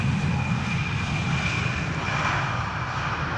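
A KLM Embraer 175 landing on runway 18R Polderbaan at Amsterdam Schiphol in gusty weather, its engines a steady, loud broadband roar that holds throughout with no voices.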